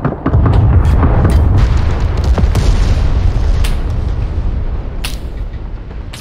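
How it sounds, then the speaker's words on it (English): BTR-82 30mm cannon fire and explosions in a military video game: heavy booming blasts rolling over a sustained low rumble, with sharp separate cracks near the end, loud and close. "Those are BTR-82s with a 30mm cannon."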